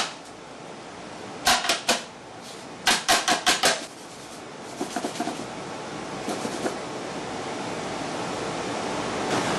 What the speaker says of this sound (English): make sure you give her a good smack out for all the air bubbles